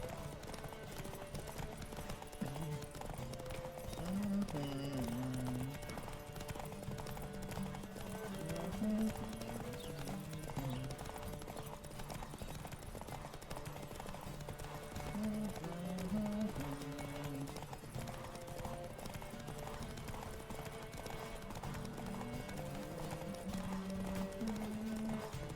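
Horse hooves clip-clop steadily at a walking pace in The Witcher 3, set against a soft game soundscape with faint background voices.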